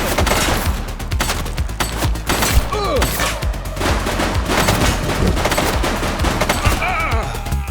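Sustained automatic gunfire in a police video game, loud and continuous rapid bursts layered with thumps and ricochet-like whines throughout, with faint voices in the mix.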